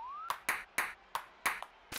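Six crisp, evenly spaced knocks of a ping pong ball in the 1-2 Switch video game, with the ball hitting the net, each hit short and bright over a quiet background after a brief rising tone.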